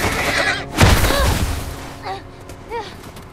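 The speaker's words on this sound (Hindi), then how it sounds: "भाई घोड़े को गोली मार दी इनकी," A horse in The Last of Us video game neighs after being shot: a heavy boom-like impact is followed by shrill, wavering whinnies that trail off in two fainter cries, with a voice speaking underneath.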